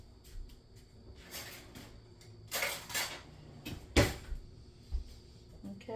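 A kitchen drawer is pulled open and a clean spoon is picked out, giving a few soft knocks and one sharp metallic clink from the cutlery, close by in a quiet room with no talking.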